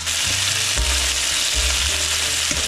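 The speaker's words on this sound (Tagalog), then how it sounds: "Pwede na tayo mag-sauté. Golden brown na ang chicken." Golden-brown chicken sautéing in a pan sizzles loudly and continuously up close, with occasional stirring scrapes breaking through the steady frying hiss.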